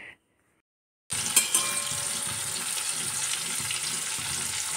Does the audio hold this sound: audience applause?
no